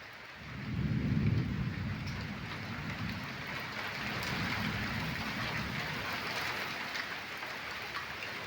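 Summer rain with wind and thunder: a low rumble of thunder swells early and fades under a dense, steady roar of rain pattering on surfaces, no voices.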